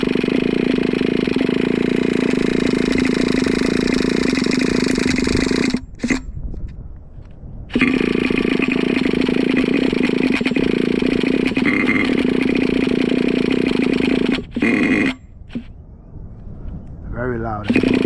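A Traxxas T-Maxx RC truck's nitro OS .18TM engine with dual exhaust pipes runs loud and raspy in steady bursts, cutting out briefly twice before firing back up, with people talking nearby.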